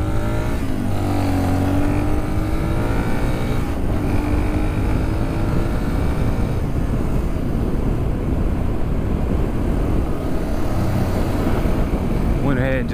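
A Yamaha XT225 motorcycle engine revs loudly and continuously, close by. It climbs in pitch through the gears, with repeated rising sweeps and shifts, and wind roar runs throughout.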